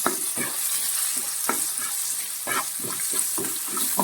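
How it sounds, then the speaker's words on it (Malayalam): Curry leaves crackle and sizzle in hot oil for a prawn roast, a loud close hiss broken by repeated stirring scrapes at an uneven rhythm. "എടുത്ത് വെച്ചിരിക്കുന്ന കറിവേപ്പില ആഡ് ചെയ്ത് കൊടുക്കാം"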